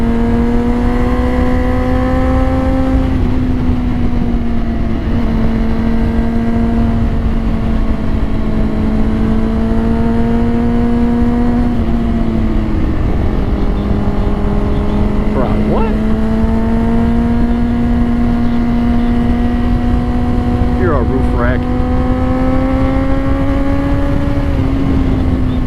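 Honda CBR 600RR motorcycle engine running at high revs on a curvy Wisconsin backroad, a steady loud drone with rising and falling pitch as the throttle shifts, continuous throughout with wind noise.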